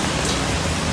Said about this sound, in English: Thai Nguyen Province will continue to experience heavy rain